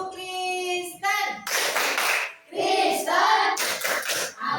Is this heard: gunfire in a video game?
no